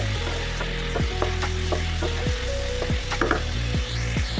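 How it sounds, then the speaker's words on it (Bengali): Chopped green chillies fry in hot oil in a pan, giving a continuous loud sizzle broken by sharp clicking scrapes and taps, with a tonal, rhythmic layer underneath. "এবার দিয়ে দেবো 3 টেবিল চামচ কাঁচা লঙ্কা কুচি, এটাও ভালো করে ভেজে নেব।"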